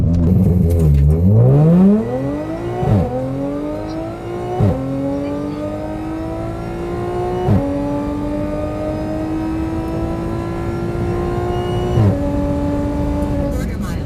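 An Audi S4 with a modified exhaust sits on two-step launch control, revving up from a low idle into a high, held buzzing drone broken by sharp popping cuts, loud and close, with a voice talking alongside.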